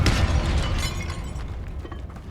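A Confringo fire spell exploding in Hogwarts Legacy: a loud, broad blast with crackling shatter that booms at once and then decays over about two seconds.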